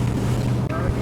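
Strong wind gusts over rough, whitecapped water aboard a yacht, a loud continuous rush with buffeting against the microphone.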